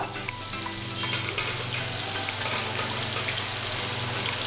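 Butter with a little oil frying in a pan as the base for a French garlic egg scramble, giving a steady, loud, close sizzle that runs unbroken through the whole stretch with no talking.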